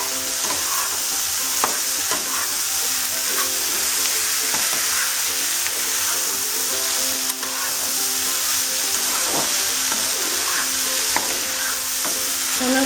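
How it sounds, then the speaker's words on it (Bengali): Spice masala fries in a pan for a Bengali-style chicken and banana flower dish, producing a loud, continuous sizzle with frequent light scrapes and taps of stirring throughout, close up and without speech. "মশলাটা কষানো হলে ওর মধ্যে সিদ্ধ করা মশলাগুলো দিয়ে নিলাম"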